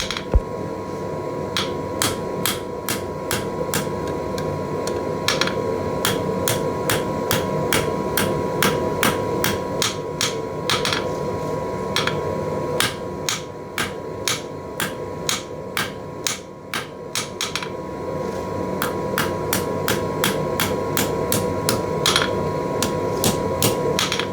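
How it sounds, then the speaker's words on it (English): Hammer blows forging the end of a ring for blacksmith tongs as the metal cools, ringing strikes in steady rhythmic bursts with short pauses, loud and close over a constant workshop hum. "Here I'm just forging the end of the ring and the whole thing a bit colder,"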